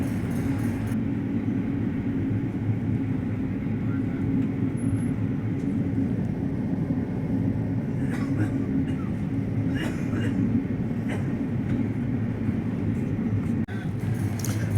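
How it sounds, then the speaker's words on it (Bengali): A long-distance superfast express train rolls steadily through hilly country just past a tunnel, its constant low rumble and hum of carriages filling the scene without a break, with faint higher clatter now and then. "পাহাড়ের মাঝখান দিয়ে চলেছে ট্রেন"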